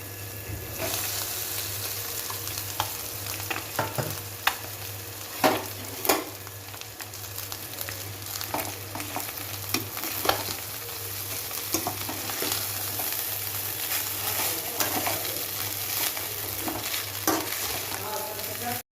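Fried rice with boiled egg whites and garam masala is stir-fried in a pan, giving a long, even sizzle dotted with frequent scraping and tapping spatula strokes, close by and without speech.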